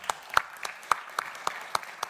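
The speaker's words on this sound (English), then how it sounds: "I'm going to ask for a warm round of applause" Sparse, scattered hand claps from a small group after an evening lecture, a handful of distinct slaps spaced irregularly rather than a full roar of applause.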